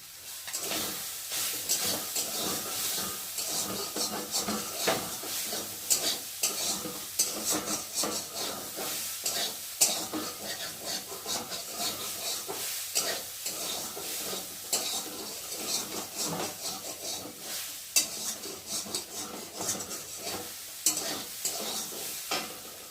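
Small soybean chunks fry in a kadai with turmeric, a soft continuous sizzle broken by frequent scraping and clinking stirs of a spoon against the metal pan, close and fairly quiet.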